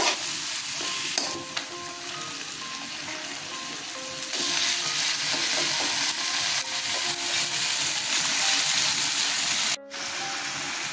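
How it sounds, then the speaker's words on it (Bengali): Mutton goes into a pan of fried spice paste and sizzles loudly and continuously, with stirring scrapes throughout, a brief drop in the sound near the end, then the steady frying hiss resumes. "মশলাটা কষানো হয়ে গেছে, মাংসটা এখন দিয়ে দেব।"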